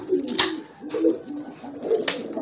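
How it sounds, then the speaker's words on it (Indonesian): Young homing pigeons coo softly in a few repeated low, throaty phrases, close by, with faint rustling and small clicks between calls. "Kita kembali lagi ke merpati bahan atau piyikan."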